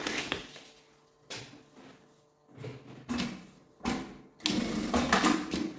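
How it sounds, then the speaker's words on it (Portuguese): A sewing machine stitches along the edge of a fabric sling backpack in short, close bursts of whirring, separated by pauses, the last burst longer and louder. "vou passar uma costura aqui na beiradinha"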